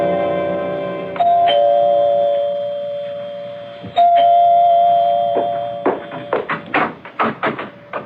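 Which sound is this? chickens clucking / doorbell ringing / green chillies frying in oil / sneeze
doorbell ringing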